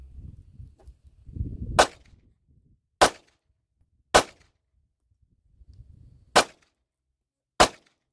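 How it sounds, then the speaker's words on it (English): Five slow pistol shots fire at a dot torture target, sharp and loud, spaced about a second or more apart, with faint low rustling between the first shots. "and then take the five shots."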